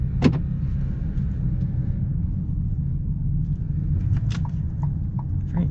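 Steady low rumble of a 2025 Ford Maverick XLT four-cylinder engine while driving, a constant cabin drone with faint ticks and clicks over it.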